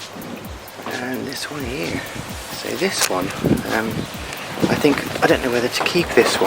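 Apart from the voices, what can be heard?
wind blowing on the microphone outdoors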